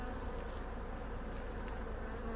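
Honey bees buzzing steadily around an opened, smoked hive, a dense continuous hum close by with no pauses.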